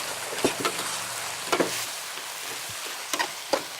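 Corn kernels and chilies stir-fried with smoky Chinese duck sausage, a soft steady sizzle broken by a few sharp scrapes and clinks of the spatula against the pan.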